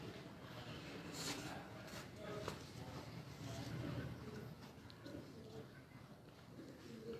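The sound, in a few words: pigeons cooing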